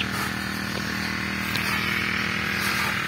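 A small grass cutter engine runs at a steady, loud, buzzing idle close by, with a constant droning tone throughout and no speech.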